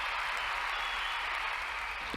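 A short burst of recorded crowd applause, steady and dense, played at moderate volume.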